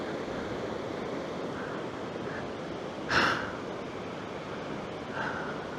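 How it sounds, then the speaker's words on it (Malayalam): Water flowing in a mountain stream in Arunachal Pradesh, a constant rushing wash that stays close and fairly loud, with a short breathy gust in the middle. "ഒരു ഒച്ചയില്ല, ഒരു ബഹളമില്ല, ഈ വെള്ളം ഒഴുകുന്നതിൻ്റെ സൗണ്ട് മാത്രം"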